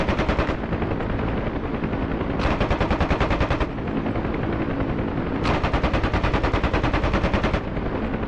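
Door-mounted machine guns on a Huey helicopter in DCS fire in long, loud, continuous bursts of rapid shots, with brief pauses between them over a steady engine and rotor drone, close and dense.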